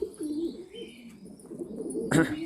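Pigeons coo softly and repeatedly nearby, low throaty calls rolling one into another, with a brief flutter near the end.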